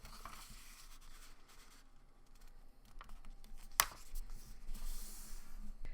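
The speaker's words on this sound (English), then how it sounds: "So to get started with this, we're going to fold the paper in half." Paper is folded in half by hand, giving soft, close rustles and crinkles with a single sharp crease snap partway through, quiet and without any talking.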